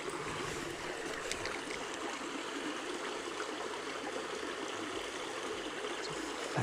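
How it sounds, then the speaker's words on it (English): Fast-moving water in a trout creek rushes and babbles steadily, a close, continuous broadband wash with no voices. "It's a fast moving water in here."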